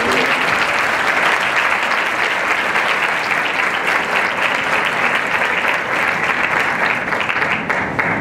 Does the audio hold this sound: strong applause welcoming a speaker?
yes